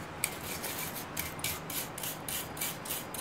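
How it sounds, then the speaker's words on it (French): A wire brush scrubs scale from a piece of coal-forged steel being made into a leaf, with quick rhythmic rasping strokes repeating at close range against a soft steady hiss. "À l'aide d'une brosse, je vais nettoyer l'acier afin d'enlever la calamine"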